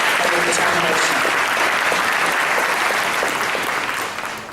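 An audience at an economic summit applauds loudly and steadily, a thick continuous roar of many hands close by, with voices mixed in, easing off slightly near the end.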